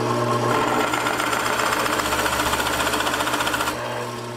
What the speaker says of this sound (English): we're going to partially drill through this wood. Just deep enough so that the Forstner bit is well into the wood